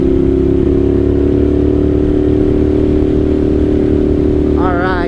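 Engine of a 1998 Suzuki TL1000R sport bike droning steadily and loudly throughout at close range, a continuous rumble with a brief rising whine near the end as it opens up.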